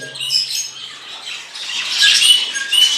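A male rosella parrot calling in courtship near a female, giving a run of bright, squawky whistles and chirps that swell louder toward the end, heard alone at close range.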